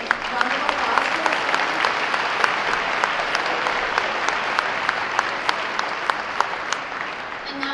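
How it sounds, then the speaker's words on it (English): Sustained applause from a large gala audience honoring children's hospital doctors and nurses at an anniversary celebration, dense steady clapping throughout with faint crowd voices mixed in. "Round of applause."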